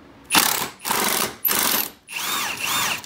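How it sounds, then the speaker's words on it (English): Wrench or ratchet loosening 17mm subframe nuts on a Nissan Z31, heard as four short, loud bursts of rattling mechanical noise separated by brief pauses. "Alright, now we just need to remove the last 2 nuts holding it on."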